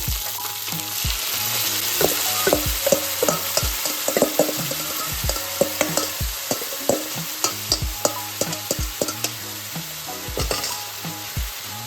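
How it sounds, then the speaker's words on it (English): Salmon sizzling in a pan as a sticky sauce goes in, a loud continuous crackle punctuated by repeated clacks and scrapes of stirring and tossing, with no talk. "browned up beautifully, I'm going to add the sauce. So I'm going to add this mixture in here."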